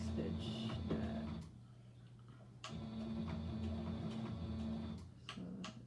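A sewing machine back stitching fabric, a close, quiet mechanical whir in two runs separated by a brief pause, with soft ticking as the needle cycles.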